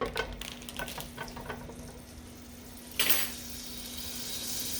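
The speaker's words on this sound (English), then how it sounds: "I'm gonna put me about 2 tablespoons of butter down in here" Butter going into a hot pan set to medium high, with a few light clinks and scrapes at first, then a brief burst of sizzle followed by a soft, steady frying hiss.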